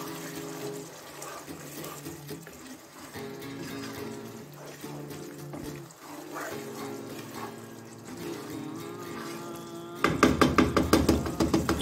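Water pours into a cooking pan with salt already added, a steady running splash for about ten seconds, then a louder burst of sizzling or clattering near the end.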